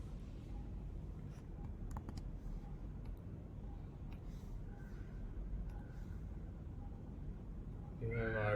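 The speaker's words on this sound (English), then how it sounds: "let's just write it down again" Pen or marker writing on a board in a lecture about WiFi MAC protocols, soft scratchy strokes in short bursts over a steady room hum, with a louder rustle right at the end.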